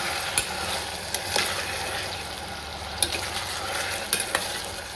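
Onion and potato frying in oil for a Kathiyawadi-style curry, stirred now and then, giving a steady close sizzle broken by a few sharp scraping clicks of the spoon against the pan.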